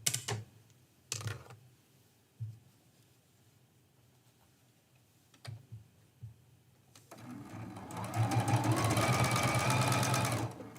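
A sewing machine stitches a pieced quilt strip in short bursts separated by quiet pauses, with soft handling clicks in between, before settling into a loud, steady run of fast stitching toward the end.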